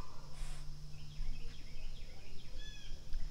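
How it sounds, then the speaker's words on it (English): Birds chirp outdoors in short, faint, scattered calls over a low steady hum and background noise. "And all the bird noises around and other background noises."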